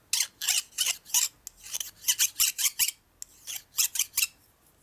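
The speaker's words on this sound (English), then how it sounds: "A little bit of burr right here on the surface, which you can't really see, but you might hear it." A burr being scraped off a freshly cut bushing from a 1946 84ci stroker Knucklehead motorcycle engine: a run of sharp, close rasping strokes in quick irregular bursts with brief pauses between them, and no voices.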